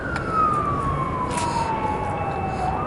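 An ambulance siren wails in a long, slowly falling tone, heard at a distance over steady traffic rumble in Hermosillo.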